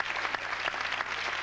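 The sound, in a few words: audience applause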